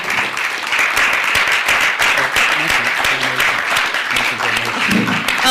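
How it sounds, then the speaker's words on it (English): A lecture audience gives Ted Gunderson a warm round of applause, a dense, loud, sustained wash of many hands clapping that fills the room throughout. "Let's give a warm round of applause to Ted Gunderson"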